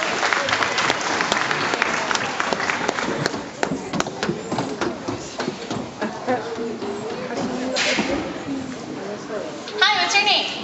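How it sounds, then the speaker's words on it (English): An audience claps at an African elephant show, a steady round of applause mixed with crowd murmur and voices talking over it throughout. "Let's give him a round of applause."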